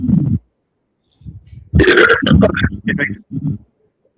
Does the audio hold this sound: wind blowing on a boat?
no